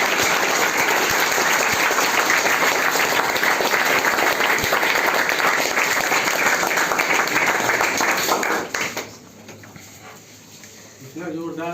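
Students at a class 10 prize ceremony at a coaching centre give loud, sustained applause that fills most of the clip up close, then drops off abruptly, leaving quieter room noise and faint voices.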